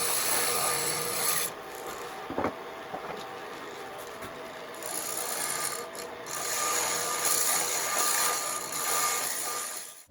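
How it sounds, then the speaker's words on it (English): Hand sanding of a segmented wooden spinning top as it turns on a lathe, a steady close rasping hiss that runs almost without a break and varies a little in strength, no one speaking. "I hand sanded quite a bit with each grit to make sure I had a nice smooth surface"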